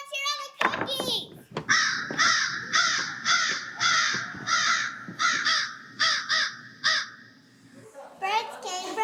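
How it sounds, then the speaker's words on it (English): Harsh crow caws repeat in a rapid series, several birds calling loudly and close, with a voice briefly at the start and end. "Birds came from everywhere."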